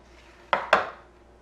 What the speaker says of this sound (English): now we just have to put these on our sheet pan